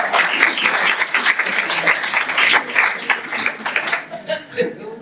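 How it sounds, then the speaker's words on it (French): An audience at a lecture in Nice breaks into a steady burst of applause, dense clapping mixed with chuckles and murmuring voices that thins out toward the end. "On peut l'applaudir."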